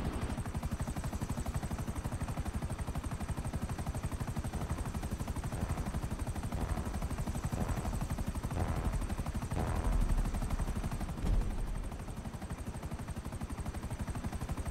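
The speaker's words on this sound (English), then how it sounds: "I was in a helicopter the whole time." A video-game helicopter's rotor beats in a rapid, continuous thump, steady and fairly loud, swelling briefly before settling again.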